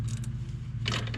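A ratchet wrench tightens bolts on the rear wheel bearing of a 1999 Dodge Caravan. A short burst of close clicking comes near the end, over a steady low hum.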